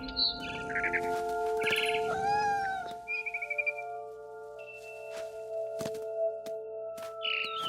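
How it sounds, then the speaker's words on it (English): Barn swallow chirps in the video game What Remains of Edith Finch, short high twittering calls scattered among cat meows over a tonal music bed, fairly close and moderately loud. "It was a barn swallow going back to her nest."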